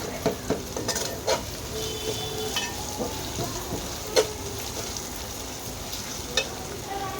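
Chicken with ginger-garlic paste and whole garam masala frying in a pan for biryani, a steady low sizzle broken by occasional spatula scrapes and clinks against the pan.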